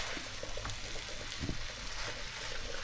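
Liver frying with onions and leek gives a soft, steady sizzle, with a few faint scraping stirs breaking through the hiss.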